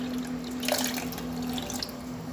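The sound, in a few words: water poured in with lemon for juice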